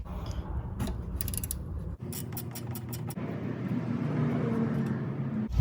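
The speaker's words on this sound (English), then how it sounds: "we're gonna try to loosen that nut and see what happens" A wrench works at a seized rear suspension link nut on a Toyota Camry, giving a few sharp ratcheting clicks and metallic creaks over a low steady hum.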